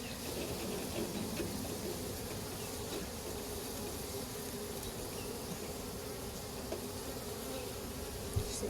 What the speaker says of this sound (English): so I'm going to shake them into the hive